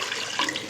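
Warm water pours into a mixing bowl for potato flake sourdough bread dough, a brief close, splashing rush of liquid heard alone.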